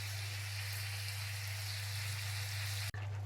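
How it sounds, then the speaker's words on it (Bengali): Panch phoron whole spices dropped into hot oil in a pan for a mung dal and spinach dish, giving a steady close crackling sizzle that runs alone and cuts off abruptly near the end. "এখন আমরা দিয়ে দিচ্ছি পাঁচ ফোড়ন।"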